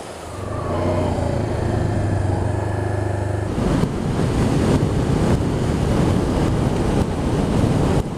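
Ocean surf washes in at Boulder Beach, a small rocky break along a sandy coast, heard as a loud, broad wash with wind buffeting the microphone after a brief stretch of engine-like hum.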